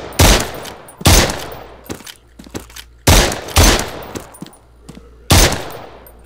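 Gunfire in the SURV1V3 VR shooter, loud close shots fired in separate bursts with sharp attacks and short decaying tails, plus a few quieter pops between them.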